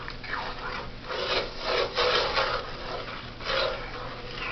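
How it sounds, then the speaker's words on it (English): Sugar and water being stirred in a pot for peanut brittle, a rhythmic rasping scrape of the spoon across the pot bottom in repeated strokes, close and steady without speech. "all we do is stir this"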